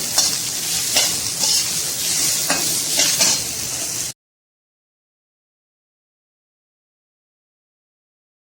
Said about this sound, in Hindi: अब मैंने इसको भी हल्के से सौते कर लेना है।